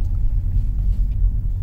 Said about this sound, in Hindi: दोनों गाड़ी की रेस हुई बढ़िया